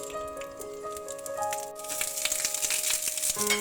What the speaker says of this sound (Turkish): Tavamızı sallayarak biberlerimizi birazcık soteleyelim